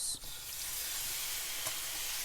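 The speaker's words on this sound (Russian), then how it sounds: "Так, сковорода уже нагрелась. И положим сюда желудочки." Chicken gizzards sizzle in a hot frying pan with no added oil, a loud steady crackling hiss that starts with a sharp burst as they hit the pan and carries on alone.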